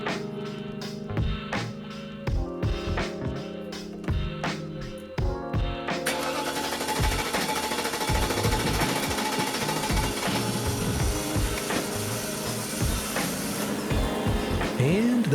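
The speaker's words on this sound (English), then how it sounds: "that's what it sounds like when your fuel rail has no pressure" An engine with no fuel rail pressure cranks in a fast, rhythmic chug of repeated starter pulses for several seconds. It then catches into a louder, busier running roar that carries on to the end.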